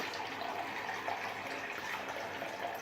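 Tap water runs steadily to soak a shaving brush, a continuous soft hiss of flowing water with no pauses.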